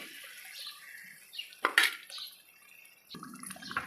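A quick splash of about a quarter litre of water poured into a pan of frying chicken curry, framed by faint clinks of kitchenware in a quiet room.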